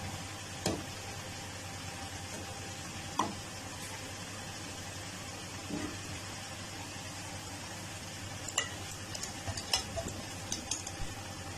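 Potato samosa rolls frying in oil over medium-low heat, a steady soft sizzle that runs throughout with a few scattered clicks and taps of a utensil, no talking.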